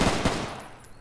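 A brief pair of sharp gunshot bursts in a video game, close and fairly loud, quickly decaying into a soft fading echo.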